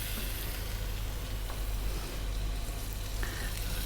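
Ginger garlic paste hitting a hot pan of spices for black chickpea kala chana, a loud, steady, dense sizzle of frying that holds evenly throughout without pause.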